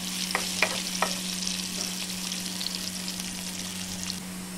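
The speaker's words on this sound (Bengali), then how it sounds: "এদিকে আমার পেঁয়াজটা মোটামুটি ভাজা হয়ে এসছে" Onion frying with cumin in a pan, with a few sharp spatula scrapes early on over a constant sizzle and a low steady hum underneath, and no voices.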